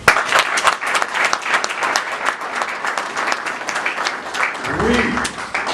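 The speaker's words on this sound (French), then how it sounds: "Et pour ça, il mérite nos applaudissements." Audience at a Congolese political gathering claps loudly in a dense, crackling burst that carries on for several seconds, with a voice coming in near the end.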